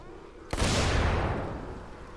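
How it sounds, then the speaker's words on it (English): A gas pipe bursts in a sudden loud blast in the Dying Light video game, a sharp onset followed by a long roaring rumble that fades over about two seconds. "I just hear an explosion."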